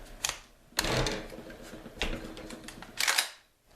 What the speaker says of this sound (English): this mag with 5 rounds feeding in the rifle